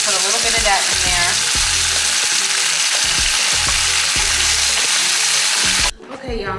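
Vegetables for roasted butternut squash soup blistering in a pan with a splash of fig balsamic, a loud, close sizzle with bursts of frying crackle and stirring scrapes, cutting off sharply near the end.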